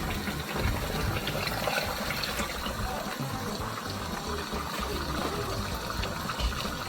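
Beef broth pours into a cooking pot of stew, a steady close splashing and gurgling of liquid that holds for several seconds without a break.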